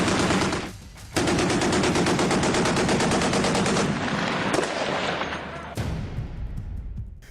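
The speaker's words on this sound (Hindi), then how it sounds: "शानदार सुपर रैपिड गन का मजा लीजिए।" Super rapid gun aboard a Type 055 destroyer firing in loud, continuous rapid bursts, breaking off briefly near the start and again toward the end before resuming.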